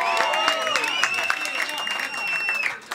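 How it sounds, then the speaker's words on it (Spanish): A crowd applauding and cheering continuously, dense and lively, with a sustained high whistle or tone running over the clapping. "Un aplauso muy fuerte"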